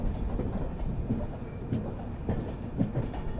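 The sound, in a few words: train with WAP-7 electric locomotives near Chennai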